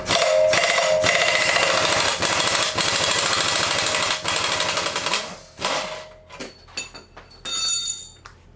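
Loud rapid hammering of an impact-style power tool undoing subframe bolts on a Nissan 240SX, sustained bursts up close, then metallic clinks and rattles as it stops.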